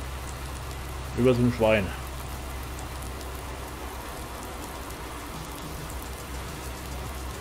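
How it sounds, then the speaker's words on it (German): Rain in the farming video game Farming Simulator 19, a constant soft patter with a low engine-like rumble beneath it, continuing steadily while someone speaks briefly near the start. "Der Regen ist nicht so gut."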